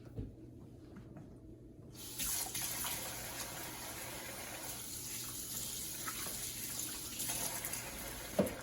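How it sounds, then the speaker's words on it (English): Water runs steadily from a tap as hands are washed under it, a continuous close splashing hiss that starts suddenly after a short quiet lead-in and holds to the end. "First, we're going to start with washing our hands."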